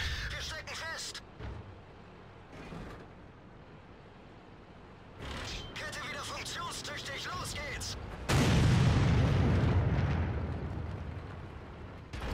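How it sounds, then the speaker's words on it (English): In a World of Tanks match, an E-100 tank's cannon fires a high-explosive shell on Fisherman's Bay, a single heavy boom with a rumbling tail late in the clip, heard under someone talking. "See if I can't hit him with an HE shell."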